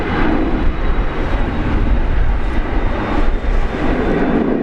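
An airliner, likely a 737, departs Brisbane Airport, its jet engines producing a loud, steady, close roar that holds throughout.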